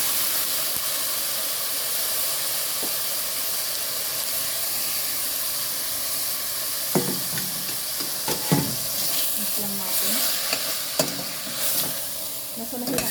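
Egg sizzles and fries steadily in a hot pan, a constant loud hiss with occasional clinks and scrapes of a utensil stirring.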